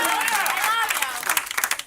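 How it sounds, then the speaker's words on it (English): An improv show audience applauds, a brief burst of clapping from the crowd that thins out toward the end. "A big round of applause for Andy"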